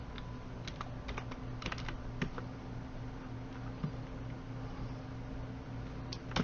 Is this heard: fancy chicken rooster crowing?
no